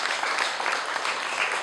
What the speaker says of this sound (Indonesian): kita tepuk tangan untuk mereka